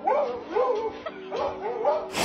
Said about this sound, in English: This dog likes to watch horse racing.